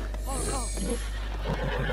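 A horse in the video game Zelda: Breath of the Wild gives a short, close whinny over a steady low game background hum.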